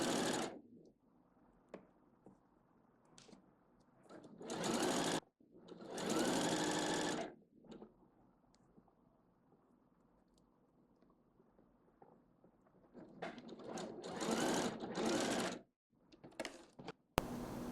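Sewing machine stitching down the waist seam of a skater-style circle-skirt dress, running in several loud bursts of whirring stitches separated by quiet pauses.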